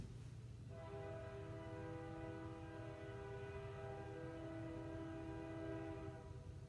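A train horn sounds one long, steady blast over a low rumble of rolling rail cars, holding for several seconds at moderate distance.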